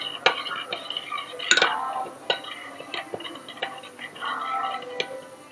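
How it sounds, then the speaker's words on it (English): Utensil stirring homemade pizza ingredients in a bowl, giving a run of light clinks and ticks against the bowl sides, irregular and close, with no talk. "But first I want to do the stirring because it's fun for me."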